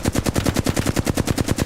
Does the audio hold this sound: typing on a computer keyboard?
no